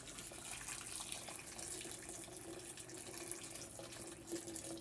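Hot water pours steadily into a pan for sardine misua soup, making a continuous, fairly faint splashing rush with no talking.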